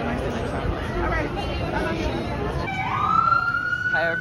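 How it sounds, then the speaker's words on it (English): An emergency vehicle siren rises and wails on a busy Broadway street, coming in toward the end over a dense crowd's chatter and traffic noise. "there's a siren if you can't hear"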